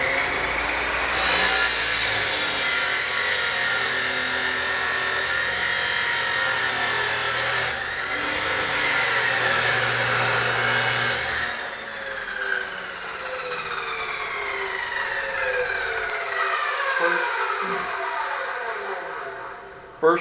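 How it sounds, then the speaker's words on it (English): A chop saw cuts a piece of metal to length for a DIY sandrail storage box, a loud continuous whine and grind running steadily for about twelve seconds, then changing to a falling ringing tone as the blade spins down. "clamp it up in your chop saw"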